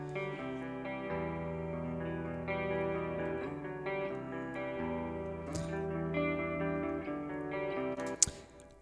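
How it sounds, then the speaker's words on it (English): Two separately recorded electric guitar parts from a demo, double-tracked and panned left and right, play sustained, effected chords together without pause, ending in a sharp click. "pre-recorded guitar tracks, the one that I used from the demo."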